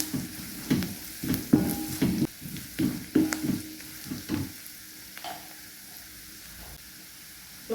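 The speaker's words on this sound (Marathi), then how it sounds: "आपला कांदा भाजतोय त्याच्यावर थोडासा आपण अर्धा चम्मच कढीपत्ता पावडर टाकूया।" Onion fries in a pan while being stirred with curry leaf powder, giving repeated scraping stirs over a soft sizzle for about five seconds, then a quieter, steady frying hiss.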